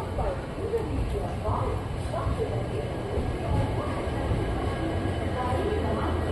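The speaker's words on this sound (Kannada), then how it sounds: "ನಮ್ಮ ಟ್ರೈನ್ ಈಗ ಸೊಲ್ಲಾಪುರ ರೈಲು ನಿಲ್ದಾಣದ ಪ್ಲ್ಯಾಟ್ಫಾರ್ಮ್ ನಂಬರ್ 1ಕ್ಕೆ ಎಂಟ್ರಿ ಆಗಿದೆ." A train pulling into platform 1 at Solapur railway station in India, its steady low rumble and rolling noise continuous throughout, with faint voices of people talking nearby.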